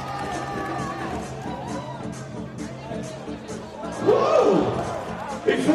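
Basketball arena crowd at a FIBA Europe Cup game, Belfius Mons-Hainaut against Ionikos, roaring steadily throughout and swelling near the end, with a voice over the din and music or tones mixed in.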